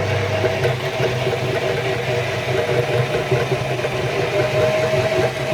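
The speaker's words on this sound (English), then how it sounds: "spin the frames around the other side, spin it again" A honey extractor spins beehive frames, giving a loud, steady mechanical hum and whir with a constant drone and faint rattling vibration throughout.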